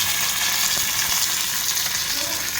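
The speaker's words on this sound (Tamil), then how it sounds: "கடுகு நல்லா பொரிஞ்ச உடனேயும் கருவேப்பிலை போட்டு" Curry leaves hit hot oil with already popped mustard seeds while tempering tomato chutney, making a steady, close, loud sizzle with faint stirring underneath.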